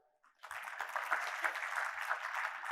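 Audience applause rises abruptly after a brief quiet moment and carries on steadily as a dense, even wash of clapping, close and fairly loud, from listeners at a Happy Marriage seminar in Gujarat.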